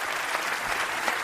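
An audience breaks into applause at a talk about the future being built, producing brief, dense, continuous clapping with no speech over it.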